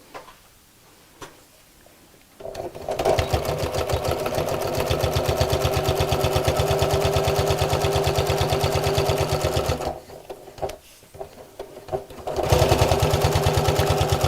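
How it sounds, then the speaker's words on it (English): Sewing machine stitching through three stacked layers of kraft-tex paper fabric, a loud close rhythmic chugging run of several seconds, a brief pause, then stitching resumes even louder. "I'm actually sewing through 3 layers of the Craftex. Not a problem for your sewing machine at all."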